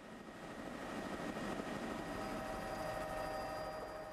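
A small aircraft lands on a palm-lined island in Botswana, its engine making a steady, fairly faint droning hum that continues evenly without a break.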